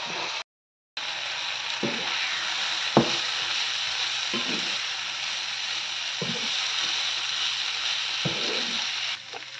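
Food frying in a pan with soy sauce, stirred at intervals; a loud steady close sizzle runs throughout, with soft scraping strokes of the utensil every couple of seconds and a brief cut near the start.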